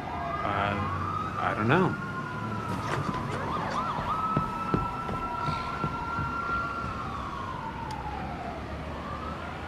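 Several emergency vehicle sirens in a 2015 film scene wail together at steady volume, their tones rising and overlapping, with a brief yelp burst near the start; a voice speaks briefly over them.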